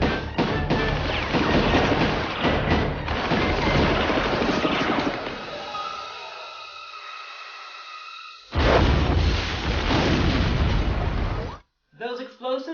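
Loud, rumbling movie explosions roll through a film battle scene around a cabin, with booming blasts and crackling debris, then a quieter stretch with a tonal hum before another heavy burst; a voice speaks briefly near the end.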